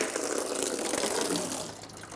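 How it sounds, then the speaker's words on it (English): Coolant pours from a 2007-2012 Nissan Altima radiator into a drain bucket, a steady, close gushing stream of liquid that eases off slightly toward the end. "we're going to remove this cap and start to drain the coolant"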